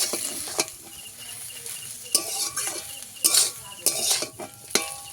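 A cauliflower and potato chop filling, mixed with coriander leaves, is stirred in a wok, with irregular scraping strokes and metallic clinks of the spatula over a faint sizzle, close and without talk.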